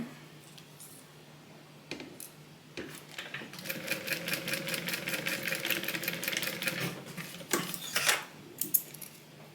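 A sewing machine stitches a Bible cover in a few short runs, one longer steady burst of rapid stitching in the middle, with handling clicks before and after.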